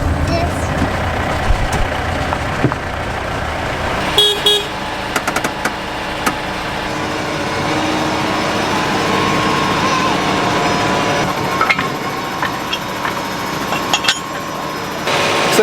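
A tractor moving a brand new grain cart on a farm, its engine droning loudly and steadily close by with rattles and clanks over the rumble, and a voice talking at times.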